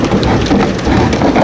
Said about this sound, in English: Hey, the rain's coming, hold on.